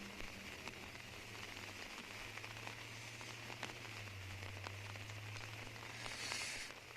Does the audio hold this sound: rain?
yes